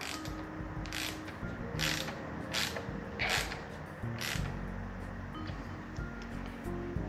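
Hand tools clicking and creaking as bolts are snugged down on the handlebar stem of a Himiway e-bike, a series of short ratchet-like bursts over a steady low background.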